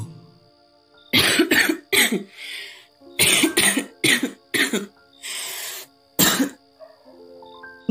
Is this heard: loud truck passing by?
no